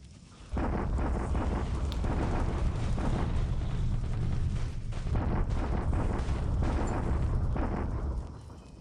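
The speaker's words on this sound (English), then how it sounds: "Japanese bombardment attack, huh?" Heavy Japanese artillery bombardment in a World War II strategy game set around Singapore, a sustained roar of deep rumbling blasts and crackling impacts swelling in quickly and fading at the end.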